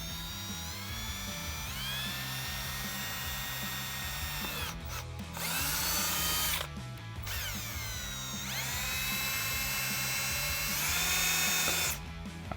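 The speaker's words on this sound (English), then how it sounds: "I'm gonna drill 1/4-inch holes in each one of those spots I marked" A power drill bores 1/4-inch holes into a 2015-2017 Mustang chin spoiler, loud high whining runs that rise and settle, broken by two short pauses between holes.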